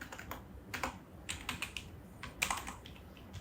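Clicky keystrokes on a computer keyboard while writing Next.js code, coming in quick irregular bursts with short pauses, close and fairly quiet, with no talking.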